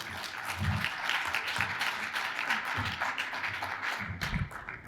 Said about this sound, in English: So everybody, please, a round of applause for Wolfgang Muller.